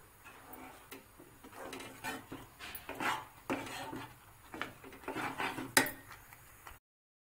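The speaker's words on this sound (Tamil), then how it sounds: "கைவிடாமல் கிளறணும்." Gram flour is stirred into hot sugar syrup in a pan for Mysore pak, giving irregular scraping and clinking of a spoon against metal at close range, with no talking.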